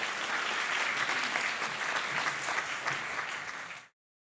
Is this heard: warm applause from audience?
yes